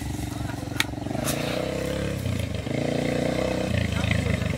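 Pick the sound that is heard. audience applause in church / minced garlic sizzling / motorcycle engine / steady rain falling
motorcycle engine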